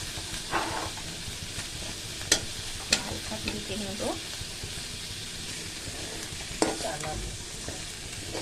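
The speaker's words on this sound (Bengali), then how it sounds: "পরিমাণ অনুযায়ী আমরা আদা দিয়ে দিলাম, হালকা ভেজে নেব।" Ginger fries lightly in a pan for fried rice, giving a steady close sizzle and hiss broken by scraping stirs and occasional utensil clicks against the pan.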